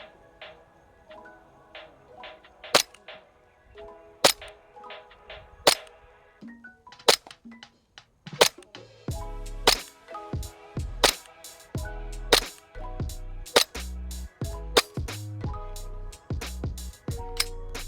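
An SRC G19X gas airsoft pistol fires 0.2 g BBs through a velocity tester: sharp single cracks, spaced out at first and then in a quicker run of about a dozen, each with a short metallic clack and faint ringing between shots.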